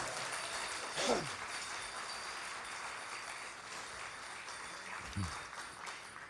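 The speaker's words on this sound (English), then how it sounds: "How about a round of applause for that?" Outdoor crowd applause at a powwow, fairly faint and diffuse clapping with a couple of brief voices breaking through.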